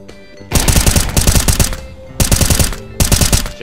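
Rapid bursts of Desert Eagle pistol fire in CS:GO, three loud, close volleys of quick repeated shots separated by short pauses.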